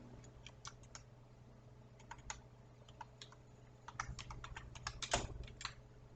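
Typing a label into SPSS on a computer keyboard: quiet, close keystrokes in uneven bursts, growing faster and busier toward the end, with no speech.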